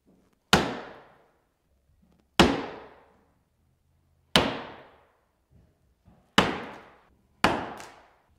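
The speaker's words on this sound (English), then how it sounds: "So just got a hammer right here." Five sharp metallic strikes of a hammer on vinyl drywall corner bead, spaced about two seconds apart with the last two close together, each ringing briefly before fading, with no voices.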